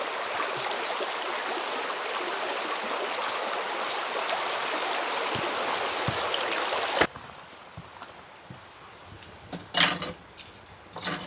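Steady rushing of stream water at a rainy remote camp by an old rustic shelter, continuous and close, then giving way to quieter clinks and splashes as water bottles are filled.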